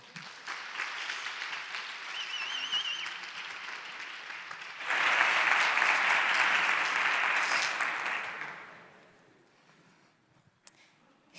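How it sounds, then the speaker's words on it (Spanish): Audience applause for a speaker at a science monologue event, moderate clapping that surges louder midway, then tapers off into near silence. "yo pido un fortísimo aplauso"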